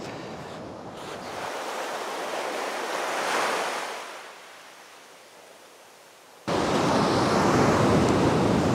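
Ocean surf breaks on Rialto Beach on the Washington coast in a loud, continuous wash that swells, eases into a quieter lull, then surges back strongly as a big wave crashes near the microphone, with wind noise throughout.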